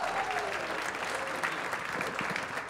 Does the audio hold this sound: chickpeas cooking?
no